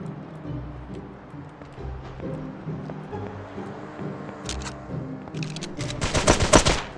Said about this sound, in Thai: ใครยิงกูใครยิงกู